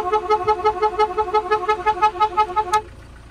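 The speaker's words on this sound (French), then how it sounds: "on peut installer un klaxon qui fonctionne fait maison" An old homemade two-trumpet air horn fitted to a Peugeot 406, fed by a tired compressor, sounds in a rapid warbling, pulsing honk that wavers steadily for nearly three seconds before cutting off.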